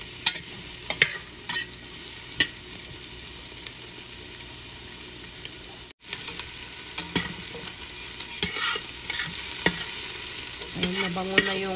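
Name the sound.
onion sautéing in a pan before adding beef ribs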